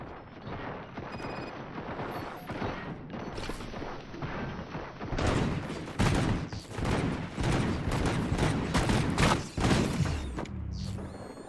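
Dense gunfire from the video game Robocop: Rogue City: rapid volleys of shots and mechanical clatter, growing louder and more continuous through the middle, with loud bursts close together over a rumbling background.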